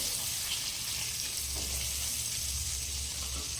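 Ginger garlic paste hits hot oil in a pan with a pinch of asafoetida, giving a loud, steady, close sizzle that hisses continuously over a low rumble.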